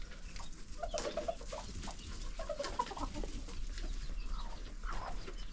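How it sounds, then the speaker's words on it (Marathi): Native desi hens, including broody ones, cluck and murmur steadily on a village farm, with a few sharper calls rising over a continuous farmyard background. "इकडे खुडूक कोंबड्या आहेत बघा"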